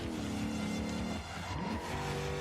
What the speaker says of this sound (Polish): Kolejny drifting na hamulcu.